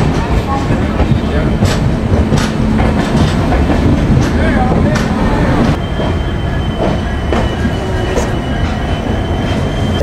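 An Indian Railways Humsafar Express train running on rails, a loud steady rumble with rhythmic wheel clatter and occasional sharp clicks and squeals, heard from on board, continuous throughout.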